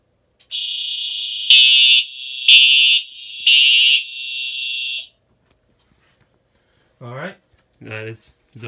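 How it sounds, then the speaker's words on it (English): Fire alarm sounding during a zone 2 smoke detector test, a steady loud electronic tone with three pulsed horn blasts over about four seconds, then silence before a few short bursts of speech. "That is zone 2 smoke detector."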